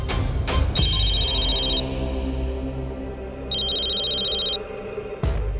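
A phone ringtone chimes in two separate electronic bursts with a pause between them, over a low background hum.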